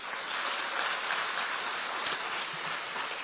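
Applause from the audience at the Democratic Party's central election campaign committee dissolution ceremony, a dense steady patter of many hands clapping at a moderate distance and holding level throughout with no voices standing out.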